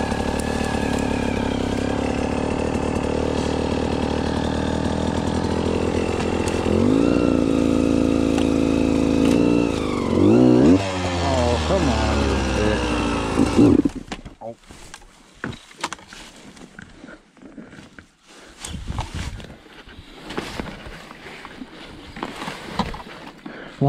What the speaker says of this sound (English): I'm in love with this dirt bike already.